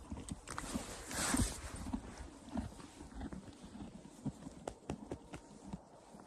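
Horse hooves clip-clop at a walk on firm ground, a series of irregular, fairly faint thuds that get louder for a moment early on, with light rustling between the steps.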